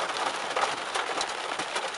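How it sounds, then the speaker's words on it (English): Hail falling during a supercell thunderstorm while storm chasing, a dense, loud clatter of ice pellets drumming on a vehicle with sharp individual impacts throughout. "Alright, we're getting hail again."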